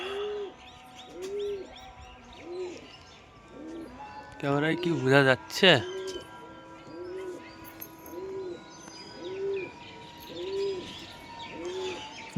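Pigeons coo in a steady, regular rhythm close by while someone speaks briefly, with a short burst of sharper bird chirps partway through.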